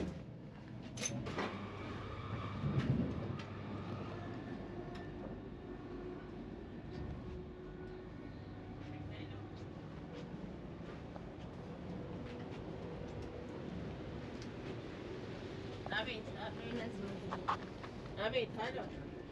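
A steady low rumble and rattle rides through the interior of a moving Avanti West Coast Class 390 Pendolino train, with occasional thumps and a sliding door sound, under intermittent quiet talk.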